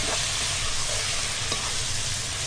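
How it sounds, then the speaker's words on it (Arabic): Chicken pieces frying with spices in a pan for a pasta casserole, giving a steady, dense sizzle and crackle throughout, close and loud with no talk. "وادي الفراخ دخلت في مرحلة السوا خالص"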